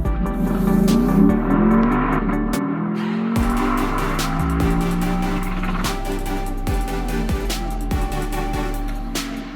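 A 2022 Lexus LC 500 convertible V8 revs hard against its rev limiter, the engine note climbing and bouncing loudly and up close, broken by sharp gear-change dips and repeated limiter stutters.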